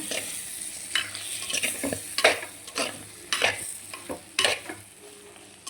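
Fish and okra pieces stirred and fried together in a pan: a continuous sizzle broken by repeated scraping, stirring strokes in an uneven rhythm, close and moderately loud.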